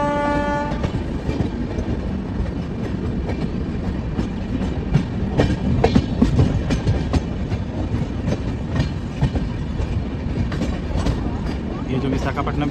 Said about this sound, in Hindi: देखते हैं कितनी स्पीड में स्किप करेगी खुर्दा रोड जंक्शन को हमारी ट्रेन।